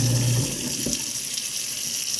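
Water runs from a tap into a kitchen sink fitted with a garbage disposal, a steady close hiss and splash, with a brief low thump near the start.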